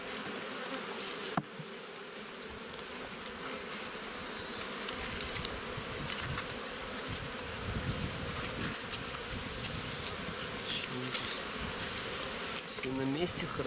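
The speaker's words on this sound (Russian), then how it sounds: "О, пчелы много, да?" Dense, continuous buzzing of many honeybees close by, with brief faint sounds from people partway through.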